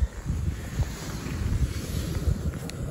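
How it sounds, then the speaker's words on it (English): Strong wind gusts buffet the microphone high on a snowy mountain during a hike, producing a low, uneven rumbling roar that swells and dips in pulses over a few seconds, with no voices. "it's very windy up here"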